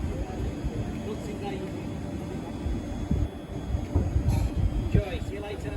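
A South Western Railway Class 444 electric train, unit 444019 in Pride livery, departs Wareham station toward London Waterloo with a low rumbling hum and building wheel noise, loud and near, while people talk on the platform.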